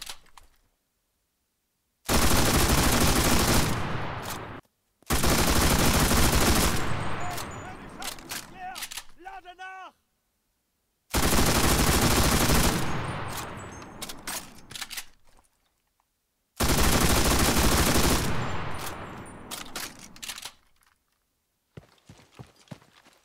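Long bursts of FN Model 1930 machine gun fire on a firing range in the game Enlisted, four loud sustained volleys each lasting a few seconds, separated by short silences, with brief clicks and reload clatter between them.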